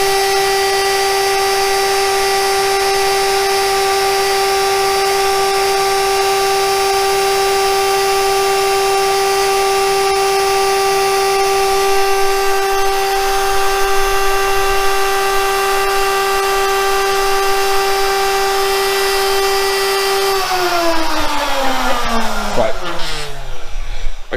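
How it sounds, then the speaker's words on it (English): A SmartBench CNC machine spins its rotating cutter without cutting, giving a loud, steady high-pitched whine that winds down in pitch near the end as the machine is paused, with faint talk underneath. "I'm going to pause the machine because obviously I was never actually cutting anything"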